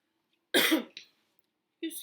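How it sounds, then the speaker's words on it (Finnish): A single person coughs, a short harsh burst followed by a smaller second cough and then another brief cough a moment later, close and fairly quiet. "Yskää."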